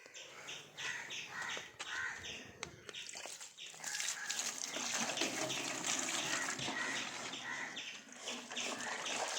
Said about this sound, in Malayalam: ആദ്യം ഞാൻ കുറച്ച് ഓസിലിട്ടാണ് വെള്ളം ഒഴിക്കുന്നത്